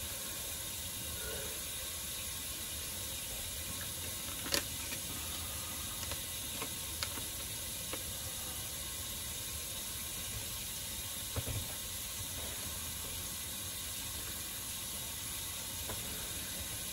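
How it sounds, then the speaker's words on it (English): Hot water runs steadily from a kitchen tap in a broad, even hiss that holds for the whole stretch, with a few faint clicks and knocks nearby. "now I'm going to have to get some really hot water. Let that run a second."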